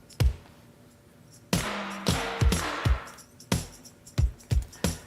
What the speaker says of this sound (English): we added some drum fills on the rototoms